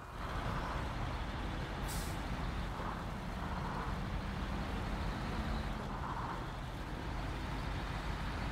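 A truck with air brakes in the off-road driving game SnowRunner rumbles steadily up close, with a brief sharp hiss of air release and a few faint engine whines over the continuous low drone.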